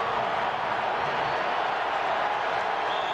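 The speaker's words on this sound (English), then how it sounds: "the crowd in the end zone to our left, which is the north end zone, really trying to make a lot of racket" A football crowd packed into the north end zone makes a constant, dense roar of shouting and noise, loud and unbroken throughout.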